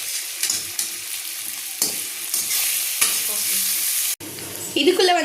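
Onions frying in a pan for a tapioca fry dish, with a continuous sizzle and intermittent scraping stirs of a spoon against the pan, ending in a louder burst of sizzling.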